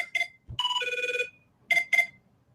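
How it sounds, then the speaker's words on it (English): A phone rings with a bright electronic trill in short repeating bursts, a longer tone in the middle, close and clear with no talking. "My wife ringing me"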